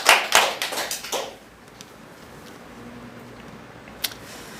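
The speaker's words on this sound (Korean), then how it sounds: "하나님께 영광의 박수 올려드리겠습니다" A church congregation gives a short round of clapping, a handful of loud, sharp, close hand claps in quick succession over about a second, then a quiet room with one last isolated clap.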